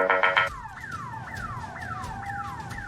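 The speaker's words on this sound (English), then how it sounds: "he got distracted by a car alarm that went off in the parking lot" A car alarm goes off nearby in a parking lot: a few rapid beeping tones, then a loud repeating wailing sweep that cycles steadily up and down.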